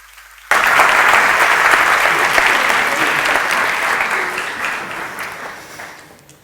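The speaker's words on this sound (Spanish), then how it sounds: "Aplaudidles." Audience applause breaks out suddenly after a brief quiet moment and holds as a loud, dense clapping wash before gradually tapering off.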